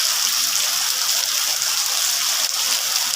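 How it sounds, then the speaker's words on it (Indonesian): Heavy rain pours down steadily, a dense, loud, continuous hiss with no breaks and no voices. "hujan turun cukup lebat"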